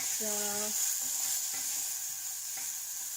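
Onions fry gently in a small amount of oil, turning golden, giving a soft, steady low-level sizzle with a brief tonal hum near the start and occasional light stirring.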